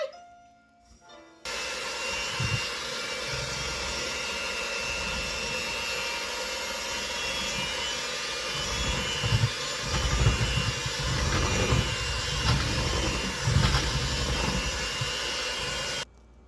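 An electric mixer churns heavy cream into butter with a steady, loud whirring drone that runs for about fifteen seconds after a short start, with slight changes in load partway through.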